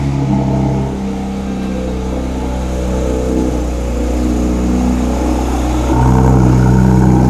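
Porsche 992 GT3 engine running with a deep, steady roar that dips briefly near the start, then swells into a louder rev near the end, close and continuous.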